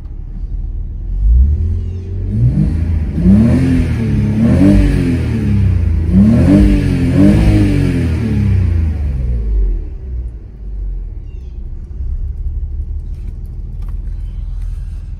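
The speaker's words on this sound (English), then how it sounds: "let's hit the RPMs and see how it acts" A BMW 330Ci E46 with a newly replaced MS45.1 engine computer revs several times toward about 6,000 rpm, its engine note climbing and falling in repeated close, loud bursts before settling back to a steady idle rumble.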